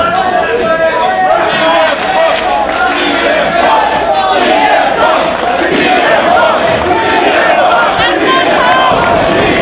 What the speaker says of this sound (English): The crowd here in New Jersey showing their support for CM Punk.